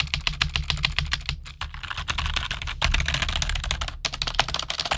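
Rapid typing on a BUGHA 65% computer keyboard with a metal plate, a dense, fast stream of close, crisp key clacks with a couple of brief pauses.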